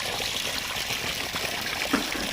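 Water trickles and splashes steadily nearby, a soft continuous flow with a small splash near the end, as someone washes their face outdoors.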